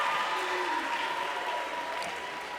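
A middle school assembly audience gives a sustained round of applause for the school's volleyball teams, a thick, steady wash of clapping from many hands that holds at an even level throughout.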